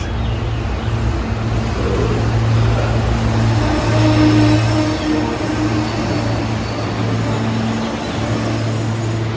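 A passenger train bound for Temple University in Philadelphia rumbles past at a steady low roar, with a droning hum and faint rail noise throughout, no voices.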